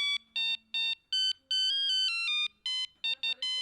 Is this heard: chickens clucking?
no